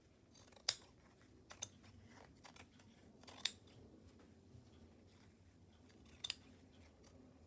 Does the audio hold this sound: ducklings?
no